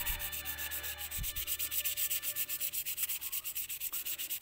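Fine 1000-grit sandpaper rubbed across a budding knife blade to clear rust gives a quiet, steady rhythmic scraping. The strokes repeat about every fifth of a second, with a low hum underneath.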